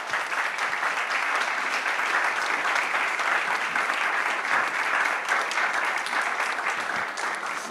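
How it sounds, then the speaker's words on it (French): Sustained, dense applause from a conference audience at a French forum on digital inclusion, steady and loud throughout with no talking over it. "Je pense qu'on peut les applaudir."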